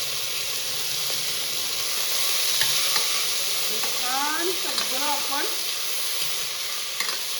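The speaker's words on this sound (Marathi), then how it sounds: "या फोडणीमध्ये परतून घेऊया" Mixed vegetables including tomato, peas, carrot, potato, aubergine and peanuts sizzle and hiss in hot tempering oil while being stirred, with scraping of a spoon; someone speaks briefly over the cooking.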